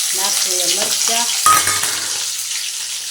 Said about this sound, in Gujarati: તો જો તેલ ગરમ થઈ ગયું છે તો આપણે નાખશું રાઈ, જીરું, મેથીના દાણા